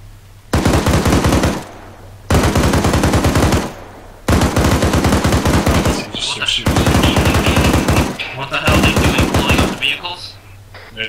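Loud, close bursts of automatic gunfire in the military video game Arma 3, five long rapid-fire strings separated by brief pauses.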